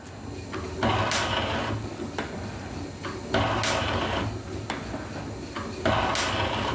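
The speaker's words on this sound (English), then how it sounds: "today I'm continuing with the machining of the axle boxes" An Atlas metal shaper fitted with a high-speed steel tool machines a bronze axle box for a 5-inch gauge steam locomotive, its ram making a steady, repeating stroke-and-return clatter about every second or so.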